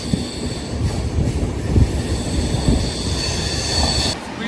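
The 12871 Titlagarh Ispat Express runs at high speed on the Howrah to Ghatshila line with a loud, steady rumble of wheels on rail and a thin squeal on top, until the sound drops off near the end.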